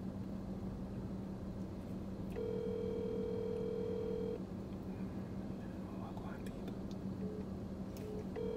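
A steady electronic ringing tone sounds for a couple of seconds over constant background hum, then short beeps follow; faint voices murmur around it.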